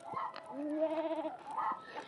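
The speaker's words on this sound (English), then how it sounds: "Listen to the goats. It's hilarious." A single drawn-out goat bleat from the video game Pentiment, wavering and nasal, with a brief second call at the end, fairly quiet.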